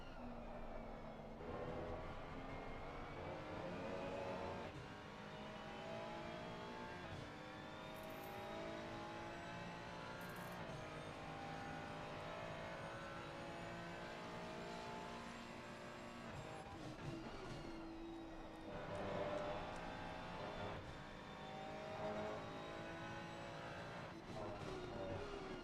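Mercedes-Benz AMG GT3 race car in a racing game endurance race at Valencia, a continuous engine roar rising and falling through gear changes as other GT3 cars run close by, faint and steady throughout.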